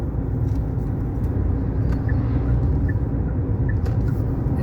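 A water truck drives along a road on a trip toward Lake Baikal, its steady low engine rumble and tire roar filling the scene at moderate distance, with faint brief squeaks and no talking.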